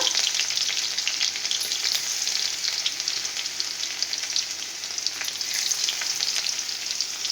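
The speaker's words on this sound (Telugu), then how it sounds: "ఆయిల్ అయితే వేడెక్కిన తర్వాత జీలకర్ర ఆవాలు కొంచెం వెల్లుల్లి రెబ్బలు అయితే ఇట్లా చేసుకున్నాను అనమాట" Cumin, mustard seeds and garlic cloves fry in hot oil with a loud, continuous crackling sizzle and no voices.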